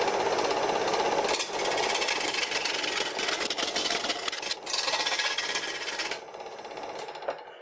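A homemade wooden wood lathe runs with a loud, rattling mechanical drone and brief dips before it winds down near the end, leaving a quieter hum and a few knocks.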